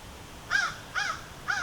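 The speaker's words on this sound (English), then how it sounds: "Now it's a bird." A crow caws three times outdoors at an even pace, each harsh call clear and moderately near over faint background hiss.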